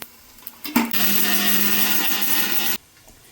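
A kitchen mixer grinder whirs loudly as its jar grinds fried spices, including cumin, for a fish curry, a steady motor roar running about two seconds before cutting off abruptly.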